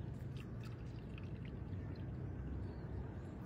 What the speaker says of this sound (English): Now, pour the water to the brim.